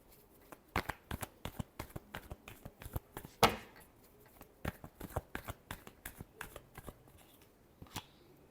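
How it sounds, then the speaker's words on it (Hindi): Tarot cards being shuffled by hand in a rapid series of crisp riffling flicks and taps, one louder snap near the middle, close and fairly quiet with no talking. "Last shuffle."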